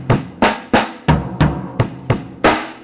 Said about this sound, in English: or you can do it without the hi-hats and it'll sound like this